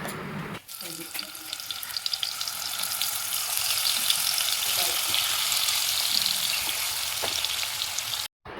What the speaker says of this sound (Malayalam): സമൂസയ്ക്കുള്ള ചിക്കൻ അവിടെ ഫ്രൈ ആയി വരട്ടെ.